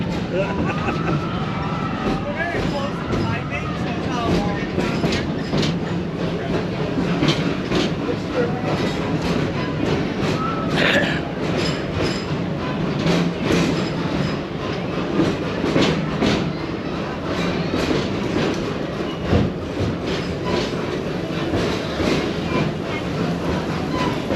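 Two trains at a theme park pass close by with rumbling wheels and clickety-clack over rail joints for the whole stretch, while people talk over the noise.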